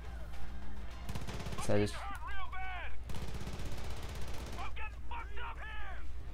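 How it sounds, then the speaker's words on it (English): Rapid gunfire crackles in the Far Cry 5 video game, with bursts of automatic shots and heavier blasts from several directions, loud and close, as someone talks over the shooting. "I'm hearing shots coming from everywhere."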